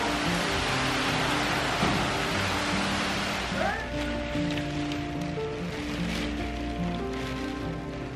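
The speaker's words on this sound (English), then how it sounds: "You guys feel that wind and rain?" Heavy hurricane wind and driving rain roar steadily around a house, a dense continuous wash of noise that stays loud throughout, with people talking under it.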